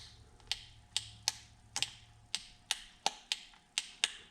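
Vintage soldering gun with two heat settings being used to weld plastic, giving off sharp, faint clicks about twice a second over a low quiet hum, with no talking.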